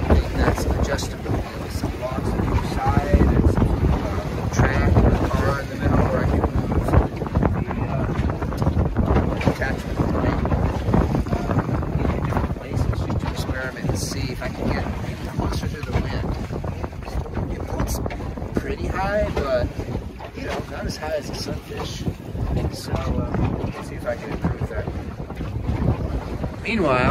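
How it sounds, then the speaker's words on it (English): Steady wind roars over a sailboat on open water, a rough, continuous rush that buffets the microphone throughout, with faint water sounds beneath. "The wind's picking up even"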